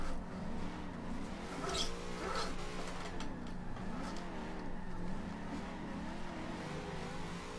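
Drift car engine in Forza Horizon 2 holds a steady, sustained revving drone with wavering pitch sweeps as the tires slide, continuous and fairly loud with no talk over it.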